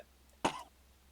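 A voice imitates a character's single short, harsh cough, one quick burst that trails off quickly and stands alone with nothing around it.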